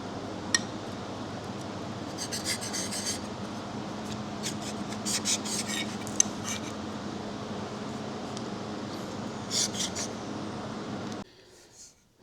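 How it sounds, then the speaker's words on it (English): A Star Hill chisel is stropped to remove the burr. Soft, steady rubbing strokes run under a constant fan-like hum, with faint scraping accents, then cut off abruptly near the end. "So once it's all stropped up, this Star Hill chisel is ready to go"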